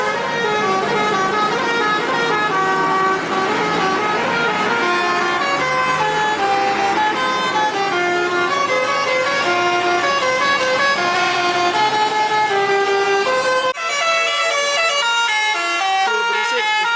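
Telolet bus horns blare at a highway rest area at KM 102 Cipali, stacked musical horn tones playing overlapping melodic phrases continuously and loudly, shifting pitch patterns before a sudden cutoff near the end.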